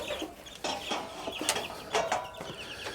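Several chickens cluck and chatter in short, irregular bursts close by, with soft clicks and shuffling in the background.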